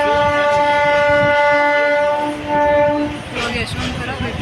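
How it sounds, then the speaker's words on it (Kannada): The Vishwamanava Express pulls out of Yeshwantpur station with a loud sustained horn blast that cuts off after about three seconds, leaving rumbling wheels and clatter close by, with a voice talking under it. "ಟ್ರೈನ್ ಹೊರಟಿದೆ ಇವಾಗ"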